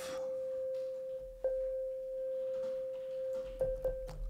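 A synthesizer plays a sustained pure tone drenched in reverb, holding steadily with brief pitch accents and a lingering tail, heard alone without talk.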